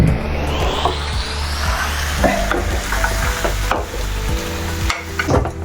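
Chicken fries in a masala of cooked-down tomatoes for a simple chicken curry, a loud continuous sizzle with repeated scraping stirs of the spoon against the pan.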